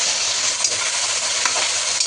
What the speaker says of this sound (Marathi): ह्या सर्व गोष्टी आपल्याला छान असं परतून घ्यायच्या आहेत।